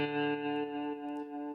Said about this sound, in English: And so here, this is what the amp sound was from the plugin.